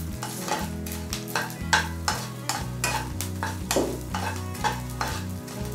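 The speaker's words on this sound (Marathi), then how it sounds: "छान असा फुलोस तोपर्यंत डिंक फ्राय करायचा आहे." Edible gum (dink) frying in a pan over a low flame for laddoos, a continuous crackling sizzle with repeated spoon-stirring strokes, while a steady humming tone runs beneath.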